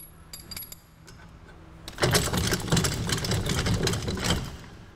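A Rola four-bike rack on the hitch of a 2014 Nissan Rogue is shaken loose, giving a sustained close clattering rattle with rapid metallic knocks after a quieter opening.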